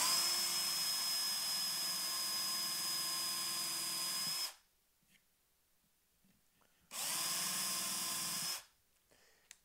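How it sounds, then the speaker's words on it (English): A power drill with a countersink bit bores a combined pilot and countersink hole, whining loudly and steadily for about four seconds, stopping, then running again in a second shorter burst. "So the pilot hole and the countersink hole get drilled at the same time."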